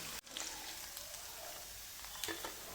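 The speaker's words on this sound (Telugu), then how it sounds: "జీడిపప్పును కూడా గోల్డ్ కలర్ వచ్చేలాగా బాగా ఫ్రై చేసేసి" Cashews frying in oil while a paneer biryani is being made, a quiet steady sizzle with a sharp click near the start and a few faint pops.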